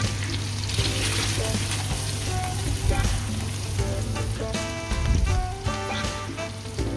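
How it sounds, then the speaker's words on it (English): Chopped onions sizzle steadily in a hot frying pan for a canned tuna sisig, a continuous close crackling hiss with occasional louder spits and light utensil clinks. "Of course, put in the onions."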